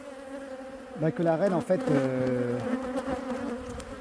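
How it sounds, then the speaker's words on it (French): Honeybees buzz in an opened hive during a winter inspection, making a steady, close hum that runs under a person speaking in French. "on voit déjà qu'il y a une bonne population"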